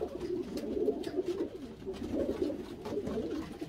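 Pigeons coo continuously in a barn loft, overlapping low throaty calls from several birds in a steady murmur, close and moderately loud.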